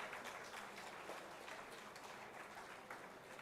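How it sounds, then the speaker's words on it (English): Steady, faint applause from an audience at a university achievers day awards ceremony, a dense unbroken patter of clapping heard alone and at a distance. "That deserves a bigger round of applause."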